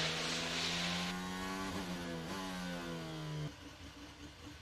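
A 2022 Red Bull Formula 1 car with an engine problem during qualifying holds a loud, sustained droning engine note that dips slightly in pitch, then abruptly drops to a lower, quieter idle near the end, with no talk.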